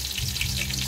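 Food deep-frying in hot oil makes a brief, close, continuous sizzle and crackle.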